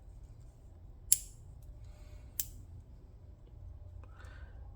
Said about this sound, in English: Spring-loaded scissors.